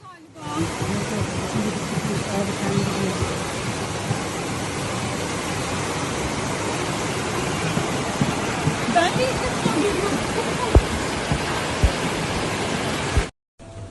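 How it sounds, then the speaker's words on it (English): Floodwater from the overflowing Hacı Osman stream roars through the town centre of Havza, Samsun, a loud, steady broadband rush that holds for about thirteen seconds before cutting off abruptly, with a voice faintly mixed in. "Hacı Osman Deresi taşmış vaziyette"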